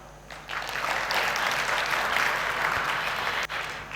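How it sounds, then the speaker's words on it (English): At a school IT day event, an audience breaks into steady, full applause that starts after a moment, holds strongly and stops abruptly near the end. "A huge round of applause, please, for Mr. Jeffrey Khan"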